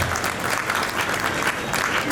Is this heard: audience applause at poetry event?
yes